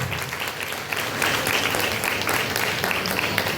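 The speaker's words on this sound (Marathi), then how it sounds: "यांच्यासाठी तर जोरदार टाळ्या या ठिकाणी झाल्याच पाहिजे" A large audience at a religious ceremony marking Sant Namdev Maharaj's death anniversary applauds warmly in sustained, even clapping that holds steady throughout without talk.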